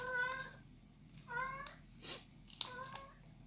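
A cat in heat meows three times close by, each a drawn-out wavering cry, with brief sharp clicks between them.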